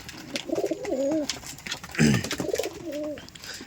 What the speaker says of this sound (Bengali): তো দেখতে পাচ্ছেন খাচ্ছে কবুতর